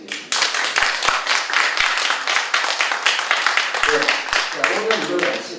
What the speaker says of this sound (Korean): 그리고 다시 한번 우리 김성균 우리 사장님 다시 한번 큰 박수 부탁드리겠습니다.